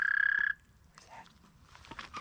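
A frog or toad calls at night in a rapid pulsed trill lasting about half a second, close and clear, followed by quiet rustling and faint night ambience.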